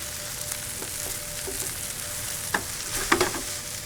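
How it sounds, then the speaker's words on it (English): Par-cooked rice is toasted and stirred in a hot pan, a soft continuous frying hiss broken by a few sharper scrapes and clicks near the end, with no speech. "almost toast the rice while it's in this pan"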